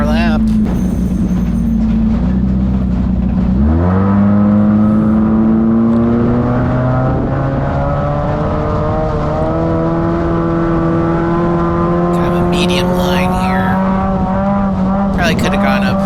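A race car pulls out onto the Montpelier Motor Speedway track, its engine droning steadily and climbing in pitch as it accelerates through the gears, loud and continuous, with a driver talking over it.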